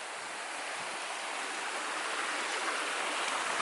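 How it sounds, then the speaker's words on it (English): A waterfall in Maricao, Puerto Rico, heard as a steady broadband rush of falling water, soft and even with no voices for several seconds. "Waterfall's beautiful."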